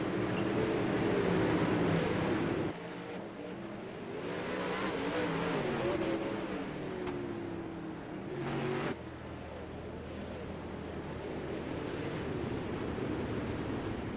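360 sprint cars circling under caution in the iRacing video game: a continuous engine roar with shifting drones that rise and fall as cars pass, with a couple of abrupt changes in level and no talk.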